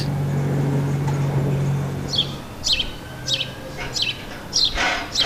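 Sparrows chirping near noisy workers, a series of short, clear chirps repeated at steady intervals above a constant low rumble of nearby work and traffic noise.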